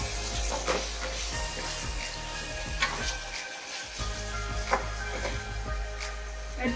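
Chopped green chilies and tomatoes sizzle in a hot pan for a langar-style urad and chana dal, a steady frying hiss broken by occasional stirring scrapes and soft clicks, close and without talk.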